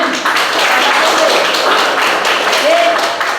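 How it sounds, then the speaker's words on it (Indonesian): Classroom applause at a lesson on the tahiyatul masjid prayer: dense, steady clapping from a group of pupils across the whole moment, with a voice speaking faintly underneath. "Bagus, tepuk tangan."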